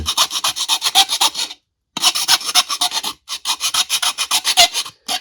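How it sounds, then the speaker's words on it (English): Close, rhythmic rasping strokes of a file on a DC-17m blaster replica part, in quick back-and-forth runs broken by two short pauses. "This is another area where it could use some sanding or some filing right through here."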